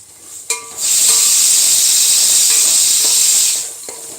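Onions frying in hot oil until brown for biryani: a loud, even sizzle that rises after a sharp clatter, holds steady for several seconds with faint stirring taps, then fades.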